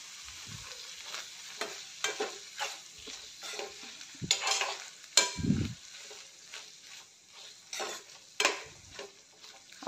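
Garlic butter corn with tomato ketchup stirred in a pan, giving a steady soft sizzle broken by repeated scraping and clinking strokes of a spoon against the pan, close and moderately loud, with no voices.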